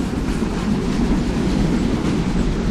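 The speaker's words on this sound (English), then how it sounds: "Here we go, here's the train, here's the train!" A train rolls past in the video game Unturned, a loud, steady rumble with continuous clattering wheels that fills the clip without any talk.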